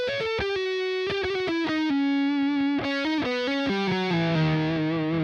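An electric guitar plays a fluid legato solo with distortion, delay and reverb, its notes sliding and stepping downward in a smooth run, sustained and ringing with a lush, fusion-flavored tail.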